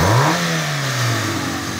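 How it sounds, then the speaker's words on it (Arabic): A Peugeot 206 engine, newly fitted in a garage after arriving from Algeria, revs up loudly and then settles into a steady, droning run, heard up close with no voices. "هذايا موتور 206"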